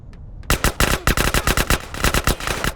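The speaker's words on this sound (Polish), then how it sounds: "Strzelam w głowę, nie giną." Rapid automatic gunfire in Grand Theft Auto: San Andreas, a close, loud string of evenly spaced shots starting after a brief quiet moment and continuing to the end, no talking.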